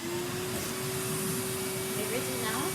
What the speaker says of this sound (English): since we've got all that to vacuum, look at that, super suction now.